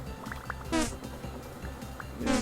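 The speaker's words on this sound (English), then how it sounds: "listen to those bees" Bees buzzing in the Vintage Story video game, a fluctuating insect drone with two louder buzzing swells passing close by amid a low background hum.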